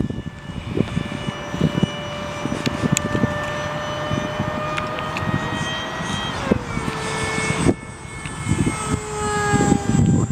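An RC model F-18 jet flies past at half throttle, its engine giving a steady whine that rises and falls in pitch as it passes, with wind buffeting the microphone and faint voices in the background.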